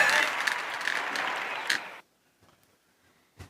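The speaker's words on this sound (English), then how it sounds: "applause. Yay!" Studio talk-show audience applauding for a country singer guest, a thick burst of clapping lasting about two seconds before cutting off sharply into near silence with a few faint rustles.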